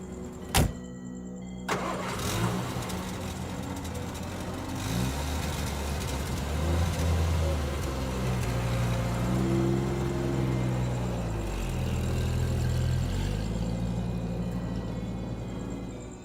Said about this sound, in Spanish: cuando ya el coche se alejaba y retumbaba débilmente en el puente del muelle del barro